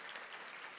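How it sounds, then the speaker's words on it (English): Audience applause at an awards ceremony for top immigrants in the Maritimes, a brief burst of steady, dense clapping from a crowd, fairly even throughout. "Round of applause for her."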